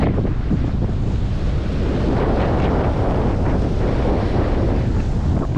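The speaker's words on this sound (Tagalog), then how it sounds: "Gawa ng malakas ang hangin." Strong wind buffets the microphone in a constant loud rumble, with surf washing underneath and no voices.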